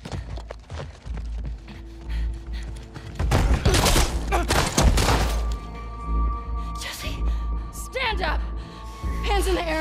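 Gunfire in The Last of Us Part II, a cluster of sharp, loud shots and thuds bunched near the middle, with voices talking around and over the bursts.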